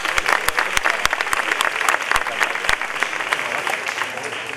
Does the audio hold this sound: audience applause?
yes